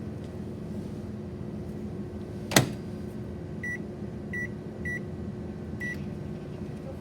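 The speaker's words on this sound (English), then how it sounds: "Now we're gonna microwave it for 7 minutes" A microwave hums steadily, interrupted by one sharp click, then a few short high beeps spaced apart.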